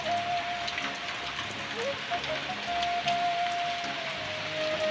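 Heavy rain pours steadily outdoors, a dense continuous hiss of drops on surfaces, with a faint tonal whine running through it and no talk.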